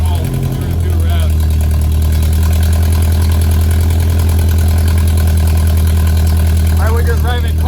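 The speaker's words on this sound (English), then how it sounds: "We'll let it warm up here for a minute, and then we'll do a rev." A Ford Ranger with a custom exhaust idles while warming up, a loud, steady low rumble throughout with someone talking over it.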